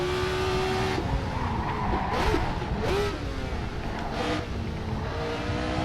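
A 1970s Formula 1 car in the Assetto Corsa racing game, its engine roaring loudly and continuously, with pitch shifts as it changes gear and tire skids and squeals through a corner.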